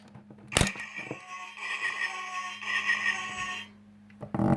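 A Transformers Cybertron Starscream action figure's arm being moved, its ratchet joints giving a sharp click followed by a stretch of rasping, grinding plastic clicks, close and fairly quiet, with a low hum underneath.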